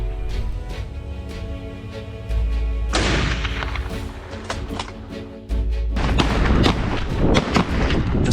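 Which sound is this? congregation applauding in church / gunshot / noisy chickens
gunshot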